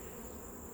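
Honey bees at an open nuc hive during a fall inspection give a steady, close insect buzz that fills the whole brief moment without pause.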